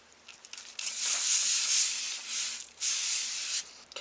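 Setting spray misted onto a face, a few soft hissing bursts of aerosol spray, close and breathy, with short gaps between pumps.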